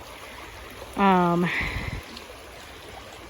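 Dogs wading through stream water make brief sloshing and splashing close by. A loud voice is heard over it, and a steady trickle of running water continues throughout.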